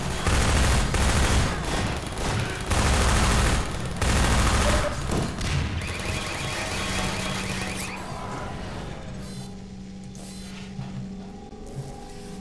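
Sustained automatic fire from sentry turrets in Half-Life 2 roars loud and dense for several seconds, then thins out into scattered shots and ringing mechanical tones as the barrage fades.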